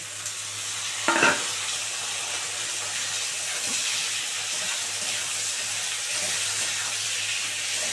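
Steady sizzling of tomatoes and beans frying in a pan, a constant hiss throughout with one brief clatter near the start.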